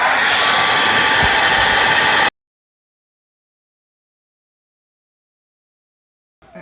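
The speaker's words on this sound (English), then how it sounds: "I'm gonna need to get a hairdryer" A hair dryer blows loud and steady at close range while heating an iPhone for screen repair, then cuts off abruptly, leaving silence before a faint rustle at the end.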